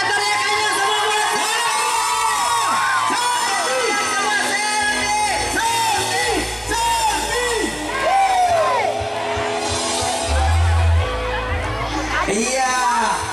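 A crowd of wedding guests whooping and shouting in welcome for a singer at a village celebration, loud and lively with bursts of yells, mixed with someone talking over a microphone and booming music.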